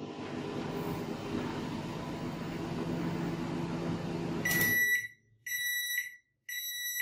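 Repaired microwave oven running after a noisy fan was cleaned of dust, a steady close hum with no rattle, then it stops and sharp repeated completion beeps sound.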